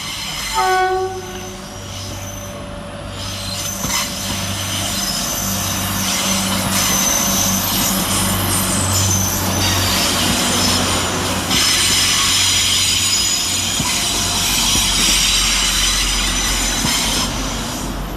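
Two coupled Transport for Wales class 175 diesel units pull out of Manchester Piccadilly station with a loud, continuous engine roar. A brief horn sounds at the start, and wheel squeal and rail noise build as the train moves off.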